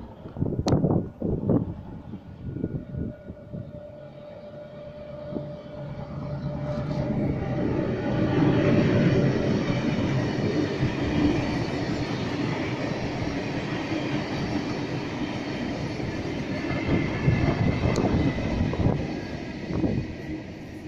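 A Sydney suburban train pulls into Windsor station with a rising rumble and clattering wheels, then a long steady roar of carriages rolling past close by, plus occasional squeals and clunks.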